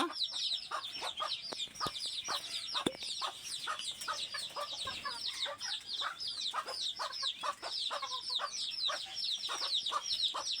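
Desi chickens cluck in a dense, lively flock, with many short overlapping calls and occasional sharper squawks running steadily throughout at close range, with no talking.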